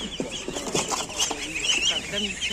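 Chickens cluck and murmur among other poultry at a busy Saturday outdoor market in Cherkasy that also sells ducks. The clucking is steady and moderately close over the crowd's background murmur.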